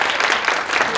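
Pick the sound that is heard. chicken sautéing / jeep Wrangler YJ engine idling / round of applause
round of applause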